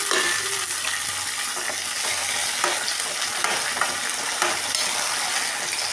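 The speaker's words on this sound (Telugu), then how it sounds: "నేను టమాటాలు అయితే వేసుకుంటున్నాను" Tomatoes sizzle loudly and steadily in a hot pan for tomato coriander chutney, with a dense unbroken frying hiss and faint stirring clicks throughout.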